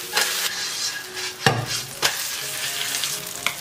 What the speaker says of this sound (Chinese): 煎到鱼可以在锅里面轻松晃动，证明可以翻面啦。